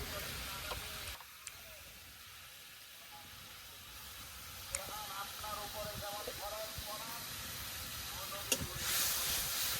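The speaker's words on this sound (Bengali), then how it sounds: "মশলাটা ভালো করে কষিয়ে নিই" Spice paste sizzles and hisses steadily in a hot pan while being fried down for a dried fish curry, a continuous close frying hiss with occasional clatters, under a woman's speech.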